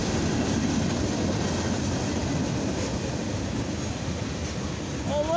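CSX mixed freight train rolls past nearby in the evening, a continuous loud rumble of wheels and cars with clickety-clack texture and a faint squeal near the end.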